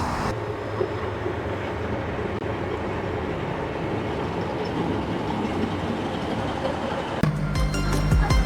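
A train arrives at a railway station on the 9:09 service up from Newcastle, giving a loud, steady rolling rumble. A sharper, brighter shift near the end suggests braking as it draws in.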